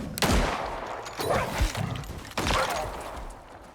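Gunfire in the video game Icarus: a few loud, close shots with crashing impacts in quick succession over dense background game noise.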